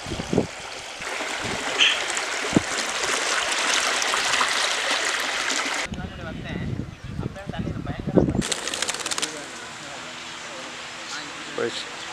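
Water from the Kaveri river rushes and gurgles steadily nearby in a village irrigation channel, a broad flowing wash with scattered knocks and a voice speaking partway through.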